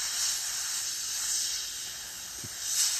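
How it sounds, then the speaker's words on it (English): A steady, even hiss of aerosol varnish spray runs for a few seconds, rising slightly at the end. "I'm gonna hit it with some of my varnish spray"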